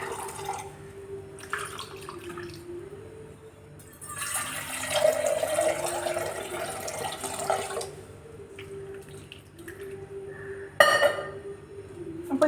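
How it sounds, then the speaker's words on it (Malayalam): Water is poured into a pot holding soil-dusted coconuts, a splashing, gushing stream that swells for several seconds then drops back to quieter trickles and a brief later splash, close by and with no talk. "കുറച്ച് വെള്ളം ഇതിൻ്റെ അകത്ത് വീണ്ടും ഒഴിച്ചു കൊടുക്കുക"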